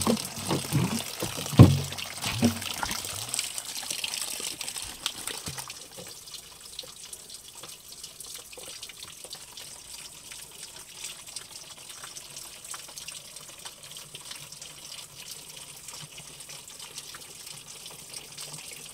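Cold, drinkable spring water runs steadily from the spring at a rural water-collection spot, with a brighter splashing burst in the first few seconds before settling into an even, continuous flow.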